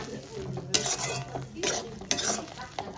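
A spoon scrapes and stirs eggplant bharta with fresh coriander leaves in a pan, a few sharp metallic clinks against the rim over a steady soft scraping, close and clear with no talking.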